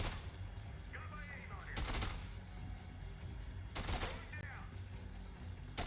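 Bursts of rapid gunfire crackle twice amid Dead Rising 2 game sound effects and background noise, each volley brief and sharp.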